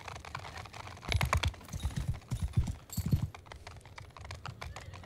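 Horse hooves clip-clopping in the video game Mount & Blade II Bannerlord, a run of close, uneven thudding footfalls that swell and fade over a dull background, with no voices.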